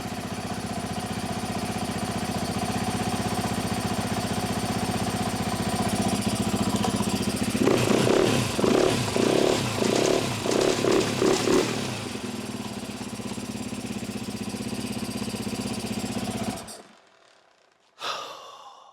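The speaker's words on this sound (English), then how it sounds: "I do have the idle turned all the way up, and it's not idling very, very high" A Yamaha YZ450F dirt bike engine runs steadily at a high idle, with a burst of throaty revving in the middle before it settles and cuts out.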